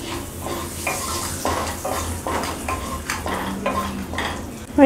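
Whole garam masala spices frying in oil before prawns are added, with a spoon stirring against the pan in repeated scraping strokes over a steady sizzle, close and clear with no talking.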